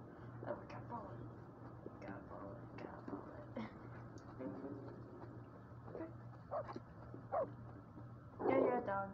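A dog barks and whimpers in the Youropa video game demo, with short yips scattered over a steady low in-game hum and a louder burst near the end, all faint in the mix.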